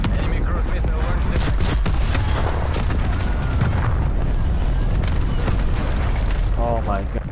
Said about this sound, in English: Enemy cruise missile launched.